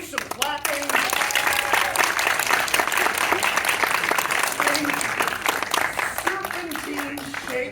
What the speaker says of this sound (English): Do some clapping.